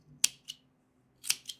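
Scissors snipping excess fabric from a quilt piece during a sewing session: two close, crisp double cuts about a second apart, each a sharp snip followed by a softer closing click, in a quiet room.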